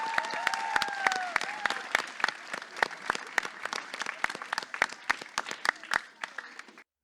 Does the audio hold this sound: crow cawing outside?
no